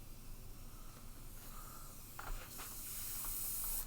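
Paint spray gun spraying white paint with heavy overspray blowing out the side, a steady airy hiss that swells louder near the end, fairly close.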